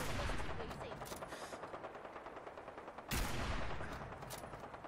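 Rapid gunfire in the Fallout video game rattles steadily under faint voices, with a sharp louder burst of shots about three seconds in before the firing trails on.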